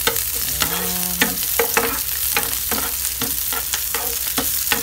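Garlic stir-fries in a pan for a spinach dish with chicken breast and tofu: a steady close sizzle under repeated scraping spatula strokes, with a brief tonal squeal early on.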